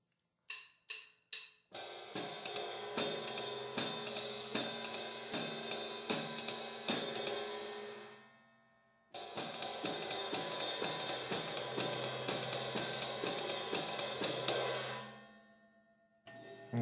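A jazz time pattern on ride cymbal with hi-hat, played slowly then building speed: a few isolated opening strikes, then a steady shimmering ride pulse with hi-hat accents, a brief break, and a second run of the pattern before fading out.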